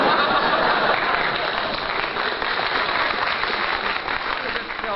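Studio audience applause on an old-time Red Skelton comedy radio show, a dense, steady wash of clapping that holds loud throughout with no break.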